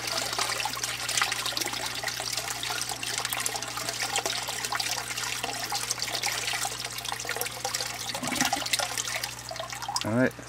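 Water draining through a bell siphon in a small aquaponic system, a steady close trickle and gurgle with a brief louder gush near the end.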